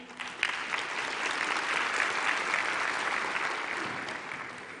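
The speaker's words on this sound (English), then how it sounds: "Round of applause for our choir." Applause for a choir fills a university graduation ceremony hall, swelling from a few scattered claps into a full, steady round of clapping before easing slightly at the end.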